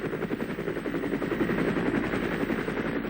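American helicopters approach in Vietnam War footage, a dense, loud rotor throb mixed with rapid rattling bursts like gunfire, sustained and steady throughout.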